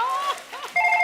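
A short electronic phone ringtone sounds in bright repeated tones, close and fairly loud.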